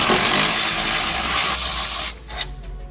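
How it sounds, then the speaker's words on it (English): A ratchet with a 13mm socket works a bolt loose on a Dodge Challenger, a loud, close, rapid clicking buzz for about two seconds, then stopping into a few quieter taps and handling noises. "grab our 13mm socket, remove this bolt right here."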